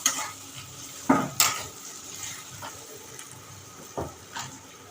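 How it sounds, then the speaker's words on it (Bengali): Boiled potatoes are stirred with spices in a pan for a paneer dish, with a few sharp spoon scrapes and knocks against the metal over a faint, steady background. "এবার আলুগুলো দিলে আলুর সঙ্গে মশলাটা মাখাচ্ছি"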